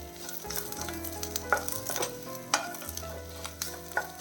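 Onions sauté in a pan over medium heat for a tomato stew, a soft continuous sizzle broken by a few sharp scrapes and clinks of a spoon stirring, close but fairly quiet, with no talking.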